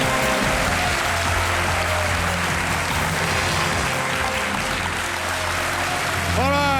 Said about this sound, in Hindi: तालियां बजते रहें देवी शर्मिष्ठा डे के लिए.